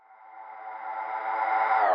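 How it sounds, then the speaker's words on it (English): Processed vocal with a tape stop effect and reverse reverb, a sustained harmonic tone that swells steadily louder and then sags in pitch at the end as the tape slows, with no other sounds. "let's hear what that sounds like again one more time with the tape stop"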